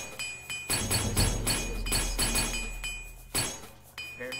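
A repair hammer clinks repeatedly on metal in the Oblivion video game, a quick run of bright metallic taps with a ringing tone, fairly close and loud, followed by a separate sharper strike near the end.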